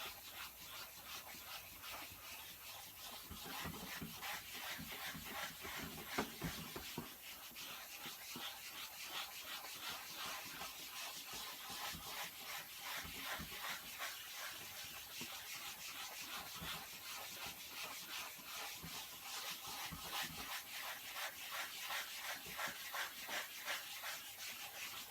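Steady rubbing and scraping of a spatula spreading repair compound smoothly over car seat vinyl, a continuous close, even texture with quick repeated strokes throughout, no voices.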